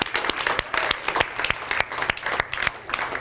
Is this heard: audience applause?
yes